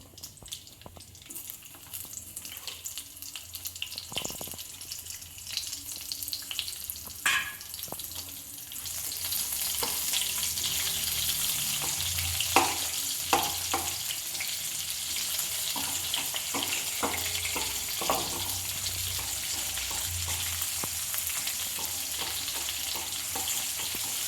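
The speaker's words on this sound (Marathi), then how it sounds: "आता हा कांदा तळतोय" Chopped onion frying in hot oil in a pan for shahi paneer. A steady, close sizzle grows louder and denser about midway, when the onion goes in, with a few clinks of a spoon and no talking.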